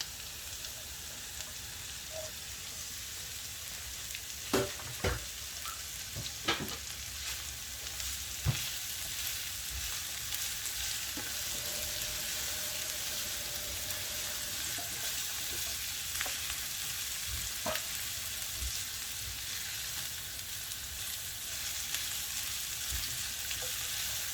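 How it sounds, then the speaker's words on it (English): Steady sizzling of ginger garlic paste frying in a hot pan, a continuous crackling hiss with a few sharp pops and occasional stirring clinks, no talking. "As you can see, it's nicely frying and coming."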